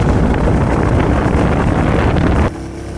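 Royal Enfield Meteor 350 and Classic 350 motorcycles ride at speed. Heavy wind rush and engine roar fill the track at close range before dropping abruptly near the end.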